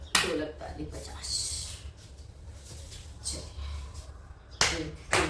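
Sharp hand claps during a home yoga exercise session: a few loud, crisp smacks at the start and near the end, with a voice talking between them.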